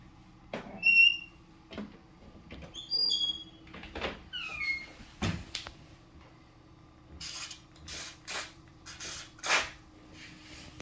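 Short bursts of spray lubricant on a squeaky door hinge, several brief hissing puffs between soft squeaks and taps of the door, close and quiet in a still room.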